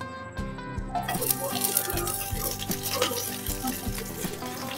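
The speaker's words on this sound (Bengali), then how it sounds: "কড়া তো গরম হয়ে গেছে, এবার এক এক করে আমি সমস্ত সবজিগুলো দেব। প্রথমে পেঁয়াজ কুচি দিচ্ছি" Chopped onion hits hot oil in a pan for pasta, setting off a loud, steady sizzle with stirring clatter and occasional scrapes running throughout.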